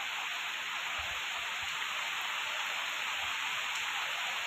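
Heavy rain falling in Sylhet, a dense steady hiss of downpour with no break, moderately loud and even, with a few low thumps and no talk.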